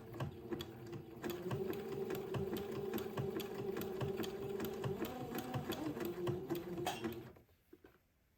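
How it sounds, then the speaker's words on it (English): A sewing machine zigzag-stitches narrow lace to entredeux, a fairly quiet, even, rhythmic mechanical hum that runs steadily for about seven seconds and then stops. "let me butt this lace up to the entree ladder and zigzag it into place."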